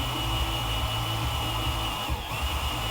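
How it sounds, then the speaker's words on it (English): Steady whirring power drill boring out a broken-off bolt or stud, running continuously at close range with a brief dip in pitch partway through. "Once I get it drilled out sufficiently"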